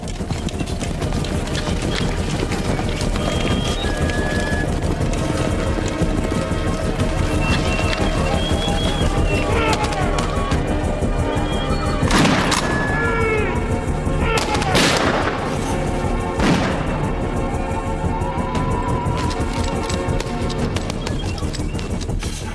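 Rumbling hoofbeats of many horses running, dense and continuous, mixed with loud sharp bangs and a busy cinematic din.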